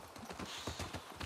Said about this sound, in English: I'm gonna have to leave the horses here.